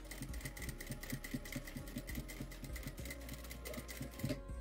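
Sewing machine running a steady, fast stitch along the second side of a fabric piece, a continuous mechanical rattle with regular needle clicks, close and alone, stopping briefly near the end.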